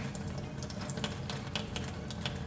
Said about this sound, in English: I'm going to turn on the hot water. I'm going to rinse it out, get the heavy residue off of the valve first.